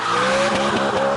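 Loud, continuous engine roar with tires squealing and spinning in place, a sustained high screech over the revving motor.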